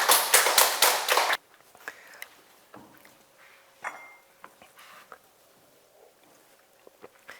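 An audience at a Sunday lecture claps in a short, loud burst that stops abruptly, followed by faint scattered taps and quiet room noise.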